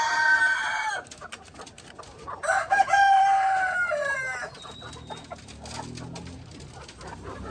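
White leghorn chickens with a rooster crowing clearly nearby, two long drawn-out crows in succession, while hens cluck and murmur softly beneath.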